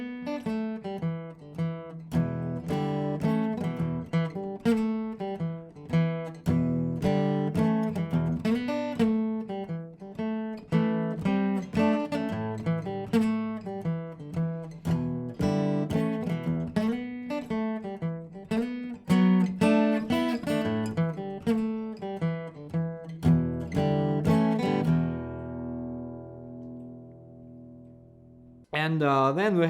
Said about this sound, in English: The main riff. So let me show you how it sounds when we play it from the top.